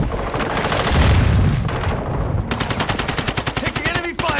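Close, loud bursts of rapid automatic gunfire and booming shots in the Call of Duty: Modern Warfare II video game, with dense overlapping volleys giving way to sharp, evenly spaced rattling bursts.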